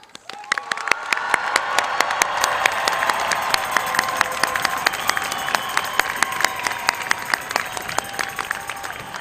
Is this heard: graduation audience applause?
yes